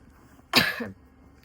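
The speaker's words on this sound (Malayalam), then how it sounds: "ഞാൻ ഇടയ്ക്കിടയ്ക്ക് ഇങ്ങനെ ചുമച്ച് കാണിക്കും" A single sharp cough bursts out close by, followed by a brief rougher tail, then quiet.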